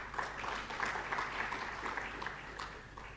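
Applause from a workshop audience recognizing a guest, a steady wash of many hands clapping at moderate distance, fairly faint and continuous throughout.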